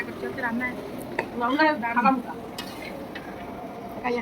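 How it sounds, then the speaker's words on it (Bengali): Cabbage curry frying and being stirred in a pan for a birthday meal, a steady low sizzle with occasional utensil scrapes running beneath a voice talking over the cooking. "এই যে বাঁধাকপি রান্না হচ্ছে, জন্মদিনের মেনু"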